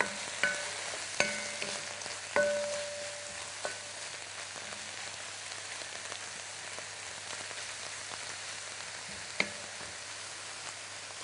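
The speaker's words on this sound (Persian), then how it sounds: "خب و به شکل آیسته آیسته سرخ میکنیم و منتظرش میباشیم تا پیاز نرم شود." Onions frying gently in a pan with a little water, a soft steady sizzle broken by a few sharp clinks and scrapes of stirring, quiet and close with no talking.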